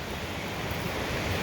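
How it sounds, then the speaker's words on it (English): A river's white water rushes far below a hiking trail near Milford Sound in New Zealand, a steady broadband roar with no pauses. "I can hear white water down there and see a little bit of it"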